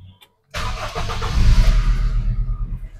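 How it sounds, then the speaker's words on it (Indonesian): A manual Toyota Innova 2.0 engine cranks and catches after a brief quiet moment, then settles into a steady, close running rumble heard from inside the cabin, with no talk. "Kita dengarkan mesinnya dulu"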